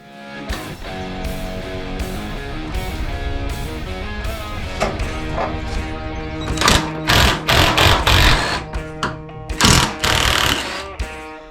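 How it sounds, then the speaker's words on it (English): Impact driver hammering at a stubborn front subframe nut on an MG TF, loud rapid rattling bursts in an uneven run, getting heavier and more broken toward the end, close and alone without speech. "what I am going to try is the impact driver and see if that will get this nut off"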